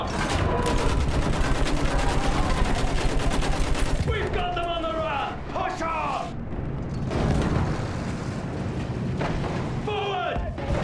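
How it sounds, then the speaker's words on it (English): Battlefield 1 World War I battle with sustained rapid machine gun fire and booming explosions filling the first four seconds, then shouted voices over continuing distant gunfire and rumble. "Use that machine gun! Mow them down!"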